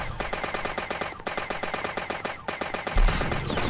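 Rapid automatic gunfire in the video game Dead Bits, a loud continuous machine-gun rattle with steady repeating shots and brief gaps, heavy and close.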